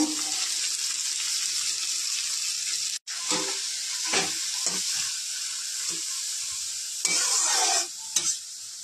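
Radish greens seasoned with salt and turmeric fry in a pan: a steady, close sizzle with spatula stirs and scrapes, plus a few louder clatters near the end.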